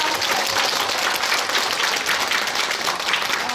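An audience at a Buddhist dharma assembly applauds after a dance performance. The clapping is full and continuous, a thick wash of many hands throughout.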